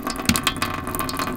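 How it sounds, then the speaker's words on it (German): Tap water runs loud and close into the sink of a camper van kitchen, a steady splashing gush with no talking over it. "Und ich habe fließend Wasser."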